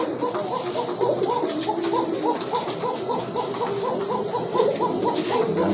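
Pink-beaked Rajgolla pigeons coo steadily at close range, repeated soft throaty calls rolling one after another over a busy background of other birds.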